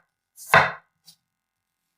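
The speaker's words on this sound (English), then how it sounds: "And we're going to fry a carrot together. Right here, you cut it diagonally." A single close knife stroke slices diagonally through a carrot on a cutting board, crisp and sharp, followed by a faint tick and quiet.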